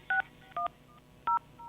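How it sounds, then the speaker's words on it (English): Dialing a telephone number produces a short string of touch-tone keypad beeps, four brief dual-tone pulses at an uneven pace, quiet and close with no talking. "The person dialing sounds like they don't know numbers so well."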